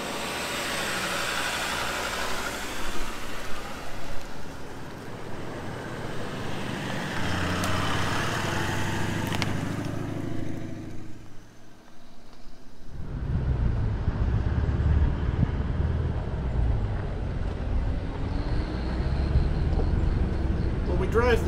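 A four-wheel drive vehicle travelling along a forestry jeep track, its engine droning steadily up close with a rumbling, bumpy low end, while someone talks over the noise.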